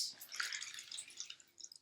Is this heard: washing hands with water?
yes